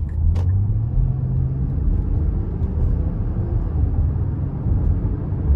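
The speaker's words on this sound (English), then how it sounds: "I can kind of put my foot to the floor getting on the interstate." A 2024 Nissan Pathfinder SL with a 3.5-litre V6 and nine-speed automatic accelerates hard onto an interstate, a steady deep engine and road rumble heard from inside the cabin.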